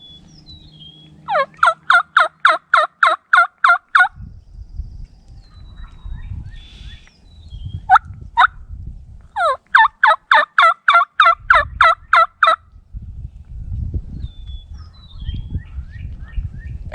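Male wild turkeys gobble in two loud, rapid rattling bursts from a nearby field on a hunting opening day, with softer distant gobbles and rustling, low wind-like noise between calls.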